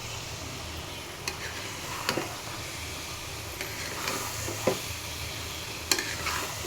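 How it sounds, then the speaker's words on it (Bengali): Mango pickle, sweet-sour-spicy, being stirred as it cooks slowly in a pan: a steady soft sizzle with scattered scraping clicks of the spoon, close and fairly quiet, with no talk. "একটু সময় নিয়ে ভালো করে নেড়ে চেড়ে দিন, নেড়ে চেড়ে নিন"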